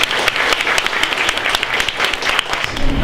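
A loud, close burst of clapping from a crowd at a children's hackathon show-and-tell honours a student team, continuing briskly and evenly throughout.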